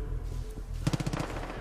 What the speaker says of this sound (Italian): Ecco spari, ecco spari.